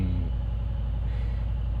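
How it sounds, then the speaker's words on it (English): Deep, steady rumble of a 2025 Mercedes-AMG G63's M177 4.0-liter biturbo V8 idling just after start-up, heard close from inside the cabin, continuous and low with no talking over it. "can hear the rumble from that M177"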